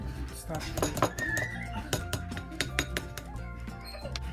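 Potato starch stirred into cold tap water in a bowl, with a quick series of light clinks and taps of a utensil against the dish, close up, over a faint background murmur.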